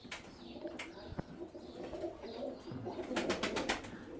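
Soft, low cooing of a Turkish Maya pigeon close by, with a few wing flaps and light rustles toward the end.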